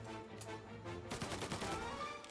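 Gunfire in the video game Mafia Definitive Edition: a quiet, rapid burst of shots in the first second, then a denser crackling volley, faint and distant-sounding, with no voices.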